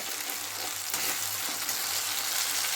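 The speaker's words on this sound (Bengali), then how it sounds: "এই সময় পেস্টটা আমি ঢেলে দেবো এই সময় খুব সুন্দর করে মশলাটা আমি ভাজা ভাজা করে নেব" Spice paste sizzling in hot oil in a pan, cooked for a vegetarian raw mango and pointed gourd (potol) dish, a continuous close, bright frying hiss with small crackles.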